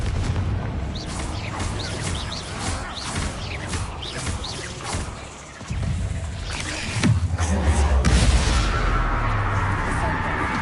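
Confringo fire-blast spell in Hogwarts Legacy, a series of booming blasts and crackling impacts with a louder explosion rumbling near the end, amid spell-casting effects and a voice speaking.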